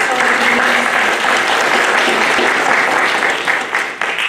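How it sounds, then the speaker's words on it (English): Audience applause at an evening candidate forum, steady dense clapping filling the room at close range, tapering slightly near the end. "So please give them a round of applause for allowing us."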